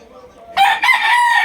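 A white Kelso gamecock crows up close: one loud, bright cock-a-doodle-doo with a short break before its drawn-out ending, against a quiet background.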